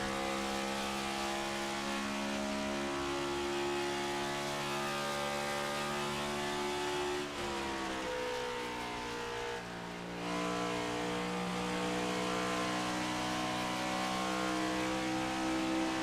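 Race cars roar around Indianapolis in the iRacing sim, a Joeyguys Collectibles Cup Series pack close to the wall, engines droning loud and steady with a pitch drop partway as the field passes.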